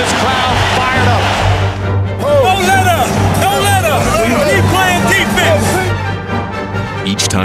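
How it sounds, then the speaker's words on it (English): Boston Celtics fans roar in a packed basketball arena during the 2008 NBA Finals against the Lakers, loud sustained cheering with whoops and shouts, rising and falling in waves. "And this crowd fired up."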